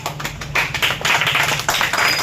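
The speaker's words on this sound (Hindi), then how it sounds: "ताली ताली बजाओ।" Students clapping together in an Indian classroom during an Independence Day lesson, a loud, quick run of overlapping claps lasting a couple of seconds.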